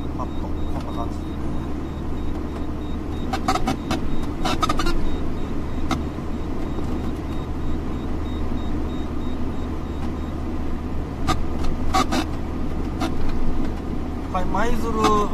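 A car cruises northbound on the Maizuru-Wakasa Expressway toward Maizuru and Tsuruga, its steady engine and road rumble filling the cabin continuously, with a few brief higher-pitched clicks and bumps along the way.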